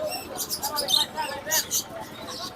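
Pigeons and doves at a busy bird market, with white doves and budgerigars among the stock, giving soft repeated coos and chirps under steady crowd chatter and nearby talk.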